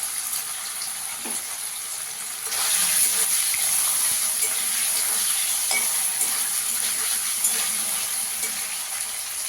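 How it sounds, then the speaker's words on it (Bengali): Paneer lightly fries in ghee in a pan: a quiet sizzle jumps to a loud, steady crackling hiss after a couple of seconds and holds close and constant, with faint knocks of stirring. "পনিরটা একটু হালকা করে ভেজে নেব।"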